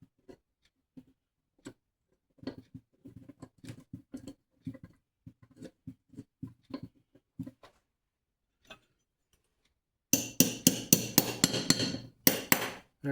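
The end of a drill bit taps a brake pin into a clevis on a Minneapolis Moline 445 tractor: light, irregular metallic taps, then a burst of sharper, louder hammer blows near the end.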